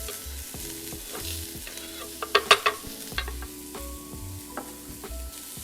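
Onions sizzle and crackle in a hot pan, with a few sharp clatters and pops of utensils stirring, and no talking.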